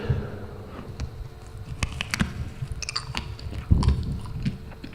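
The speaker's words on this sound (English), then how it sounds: "You hear the crunch?" Crunchy dessert bitten and chewed up close, giving a run of dense, crackly crunches and chewing sounds that keep on throughout with no talk over them.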